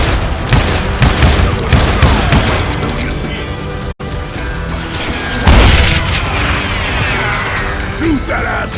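Dense, loud gunfire and booming blasts fill a shootout in the Western video game Call of Juarez Gunslinger, with rapid overlapping shots and crashes throughout and voices shouting over the action.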